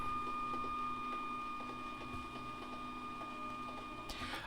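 An office printer runs a print job, a steady mechanical whir with a constant tonal hum and light rhythmic ticks, close and alone, ending in a short burst of louder feed noise.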